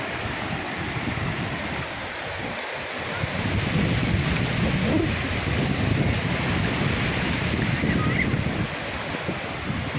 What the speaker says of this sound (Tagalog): So yung alon, no, grabe, ang lakas ng alon.